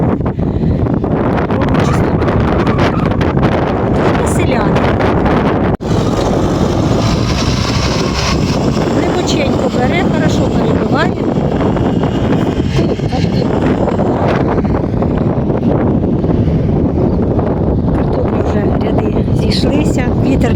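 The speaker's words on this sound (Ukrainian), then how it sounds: "Вітер бішаний." Loud, steady wind roars and buffets a microphone outdoors in a vegetable garden throughout, a continuous rushing noise with a brief dip partway through.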